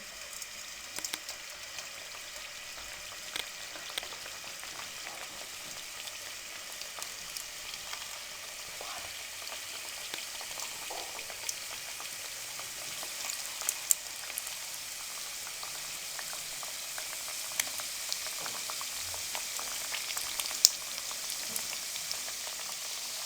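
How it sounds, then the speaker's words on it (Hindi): Medium-sized homemade donuts deep frying in hot cooking oil, a faint, steady crackling sizzle with scattered small pops throughout, no voices. "अब ये डोनट्स हम इसमें फ्राई कर लेंगे।"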